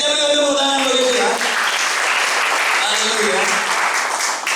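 A church congregation at a thanksgiving service claps together, a steady, dense applause that carries on throughout while a voice speaks and sings over it.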